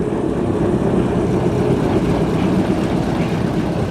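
A big old diesel loco standing in for a heritage railway's steam train runs steadily close by, a continuous low rumbling drone that holds at a constant loudness throughout.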